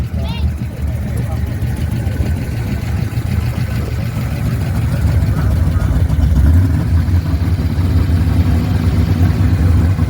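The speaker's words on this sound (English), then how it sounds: "This thing sounds sweet." A 1970 custom car idles at a car show, a deep steady low rumble running throughout, loud and close, with people talking over the engine.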